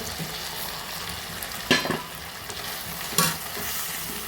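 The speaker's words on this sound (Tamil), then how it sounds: "அதுக்கு தேவையான மசாலா பொடியெல்லாம் இப்போ ஒன்றா போட்டு கிண்டிக்கலாம்" Masala powder and eggplant sizzle in hot oil for a dry fish curry, a steady frying hiss broken by two sharp scraping bursts as the pan is stirred.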